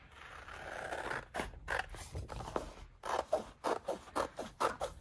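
Scissors cutting holographic sticker paper at close range, a series of short crisp snips and rasping cuts that speed into a quick rhythm toward the end, with no talking.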